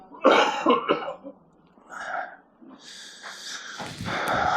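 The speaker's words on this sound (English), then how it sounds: "That's a nasty cough, isn't it?" Several harsh, raspy coughs up close, bursting in quick succession with throaty clearing and snorting sounds between them.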